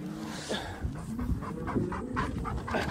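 A working farm dog pants rapidly and steadily close by, quick rhythmic breaths running throughout without pause.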